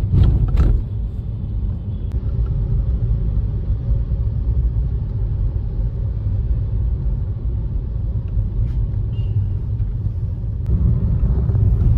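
A vehicle engine rumbles low and steady at a village tug of war event, with a brief knock at the start and a slight rise in intensity near the end; no talk.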